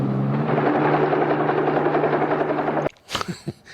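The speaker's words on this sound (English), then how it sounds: "I cannot get over this helicopter" Rapid helicopter rotor thumping with a whining drone from a 1953 sci-fi film, steady and fairly loud, then it stops abruptly and brief muffled sounds follow.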